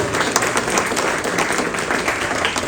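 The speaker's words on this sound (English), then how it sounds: "Give a huge round of applause, please." An audience at an award ceremony for World Youth Skills Day 2025 applauds loudly and steadily, with dense clapping that holds at an even level throughout.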